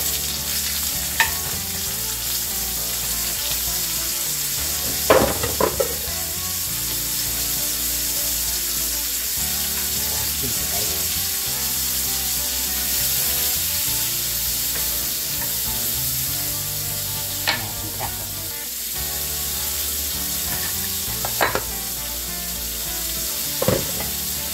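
Onions sizzling and frying in a pan for green bean casserole, a steady loud crackle with occasional scrapes and knocks of a utensil stirring, no voices.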